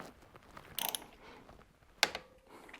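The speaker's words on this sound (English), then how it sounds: "That's a 12mm socket for the brake calipers." A ratchet with a 12mm socket turning motorcycle brake caliper bolts on a Honda CRF300L during a fork install, two short bursts of clicking separated by a pause, close and fairly quiet.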